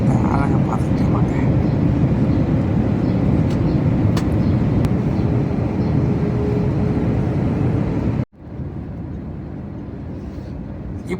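A steady, loud roar of jet engines fills an IndiGo airplane cabin in flight over Chennai at night, cutting out abruptly and then resuming; a voice talks over it.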